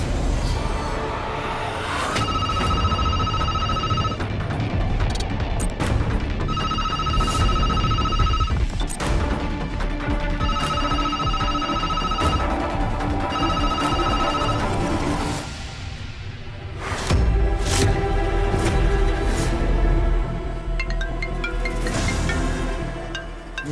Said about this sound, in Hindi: निहार का फोन